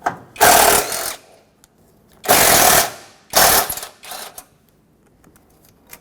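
A ratchet wrench clicks in quick bursts while backing out 8mm bolts from a radiator bracket on a 2000-2005 Ford Excursion: three loud, close runs of rapid clicks with short pauses between them.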